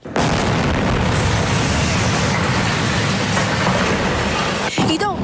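Heavy blast from a military strike on an orange building in Khan Yunis, Gaza, a loud sustained broadband roar filling the whole clip, with a short sharp crack near the end.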